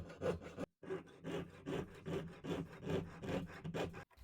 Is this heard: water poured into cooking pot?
no